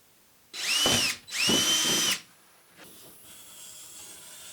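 A power drill cuts a 7-inch hole through a cargo trailer roof in two loud, close bursts of whining, grinding drilling with a short pause between them, then quieter hiss and handling noise.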